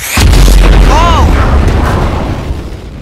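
A firework explodes in the Firework Mania video game with a loud, deep boom, followed by crackling and a whistling trail that fades out over a few seconds.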